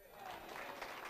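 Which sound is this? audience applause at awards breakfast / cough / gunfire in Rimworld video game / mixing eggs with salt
audience applause at awards breakfast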